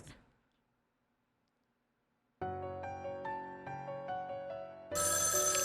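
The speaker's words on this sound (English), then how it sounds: "The phone's ringing, gotta answer it." A telephone ringing in the video game Spirit Hunter: Death Mark II, a repeated electronic ringtone starting after a short silence and continuing loud and close, joined by brighter layered tones toward the end.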